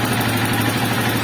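A rebuilt Honda TMX 155 motorcycle engine, recently overhauled and not yet tuned, with a slight noise in the head, idles steadily and close by, a loud even drone.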